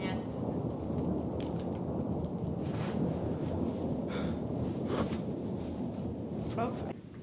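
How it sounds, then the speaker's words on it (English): Thunder rolling during a snowstorm, thundersnow: a low, sustained rumble heard from a distance sits under steady hiss, with faint brief talk over it. "Oh, there's the thunder."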